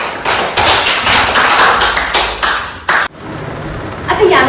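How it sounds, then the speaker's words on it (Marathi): Children in a classroom clap together in a burst of quick, uneven applause that stops abruptly, then a few scattered claps and voices follow. "सर्वांनी त्याच्यासाठी टाळ्या वाजवा"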